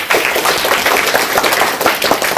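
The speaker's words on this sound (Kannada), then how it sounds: "ಅವರಿಗೆ ಜೋರಾಗಿ ಚಪ್ಪಾಳೆ ತಟ್ಟಿ ಮಕ್ಕಳು" Schoolchildren clapping loudly for their teachers and head teachers at a school event, a dense, continuous wash of applause from a large group that stays steady and close for the whole stretch.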